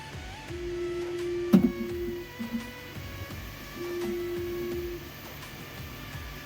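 An office printer, repaired after a sensor fault, runs through its cycle with mechanical whirring, a sharp clunk near the start, and two sustained motor tones separated by quieter clicking.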